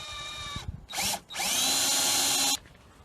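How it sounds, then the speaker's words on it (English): A power drill boring holes into a Land Rover Discovery for fitting rubber clamps, loud whining bursts close by, a short run, a brief stop, then a longer sustained run before cutting off. "Right, I've drilled 2 holes."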